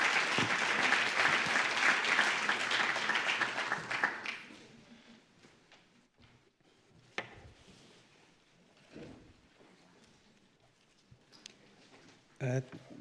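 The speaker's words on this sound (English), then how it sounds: "So please, a big applause for David Wengrow." An audience applauds a lecturer at a public symposium talk in Vienna, loud sustained clapping that fades away after about four seconds, followed by quiet room sounds and a few small knocks.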